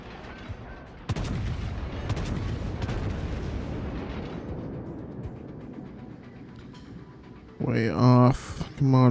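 Gunfire rounds shot in a rapid string of sharp reports that fade into a long rumbling echo, heard at a distance, followed near the end by a brief burst of voices.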